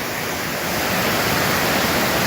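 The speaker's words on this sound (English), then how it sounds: "So it's a pretty big waterfall." A big waterfall on the Three Lakes Loop near Crested Butte, Colorado, sends up a constant hissing roar of falling water that swells slightly and then holds steady, with no talking.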